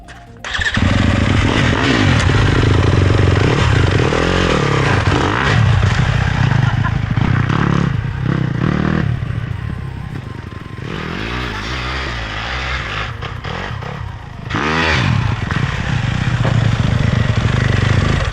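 Vulcanduro dirt bike with 100 number 180 Kavonics screw-in ice studs, its engine revving loud and close as it rides on ice, rising and falling, with a brief dip midway before roaring back.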